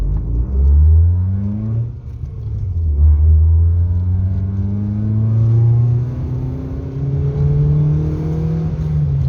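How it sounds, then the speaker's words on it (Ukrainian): A Geely CK car engine revs loudly as the car accelerates from inside the cabin, its pitch rising and falling through several gear changes. The engine has a fault that causes jerks and backfires under acceleration. "тепер даю газу"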